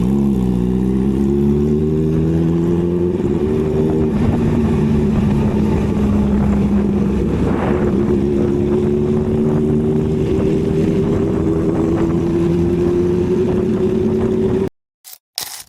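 A motorcycle engine drones steadily while riding on a road trip between Guwahati and Shillong, its pitch slowly rising and holding, with wind noise throughout and a brief cutoff near the end.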